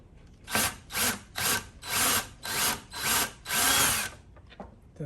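A Ryobi cordless drill backs screws out of a shelf being taken apart, six or seven short close whirring bursts in quick succession, the last held longest, with no talking.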